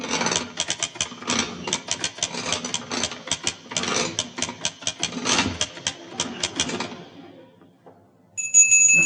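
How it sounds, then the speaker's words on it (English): A massive pulled bell at an old house, rendered as a comedy sound effect: a long rapid run of jangling, clattering rings that rattles for several seconds, then stops, followed by a short high tone. "I suppose this massive thing must be the bell."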